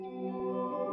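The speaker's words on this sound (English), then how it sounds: "Wet signal is the outputted fully reverb signal." Melody drenched in fully wet cathedral-style reverb in FL Studio sounds as a smeared, sustained wash of tones, soft and distant, with no speech.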